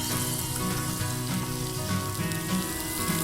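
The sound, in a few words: sautéing spices in hot oil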